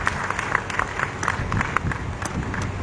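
Steady applause from a crowd at a teachers' forum event, many hands clapping loudly and continuously with scattered sharper claps standing out, no speech over it.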